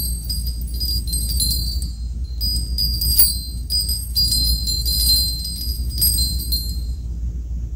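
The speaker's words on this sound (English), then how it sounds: "I'm gonna try to lift this Ganesh chimes" Ganesh chimes, a set of small brass bells, ringing with a light, bright tinkle that shimmers steadily for several seconds over a low background hum.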